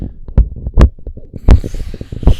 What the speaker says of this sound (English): this is what the M88 sounds like when it's being held in your hand and putting it back on the clip.